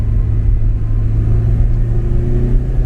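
A 1982 Porsche 944's engine pulls hard under full throttle, a loud, steady low rumble with a droning tone that holds evenly throughout, no voices.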